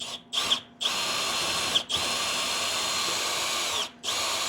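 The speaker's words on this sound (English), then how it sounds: "keep drilling." Close, loud power drill running almost continuously into a plastic kayak seat, with a few brief dips as the trigger eases off and catches again.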